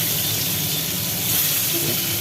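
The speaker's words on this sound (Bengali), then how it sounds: "পাতলা করে কেটে রাখা কুমড়োগুলো একটা একটা করে তেলের মধ্যে ছেড়ে দেওয়া হচ্ছে" Thin pumpkin slices slide one at a time into hot oil, raising a steady, close, even sizzling hiss that stays level throughout with no talking.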